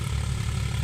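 An uncle's tractor engine drones steadily while powering a wheat thresher at harvest in a field, a loud continuous low rumble with no talk.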